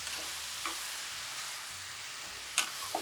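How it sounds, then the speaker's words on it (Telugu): Grated bottle gourd frying in ghee for halwa gives a steady, soft sizzle throughout, with a few brief stirring scrapes and a sharper clink near the end. "మన తురుము బాగా నేతిలో వేగింది."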